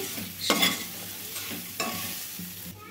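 Spoon stirring boiled chickpea prasadam with grated coconut and fresh coriander in a pan, a few close scraping strokes with a faint sizzle underneath, no talking.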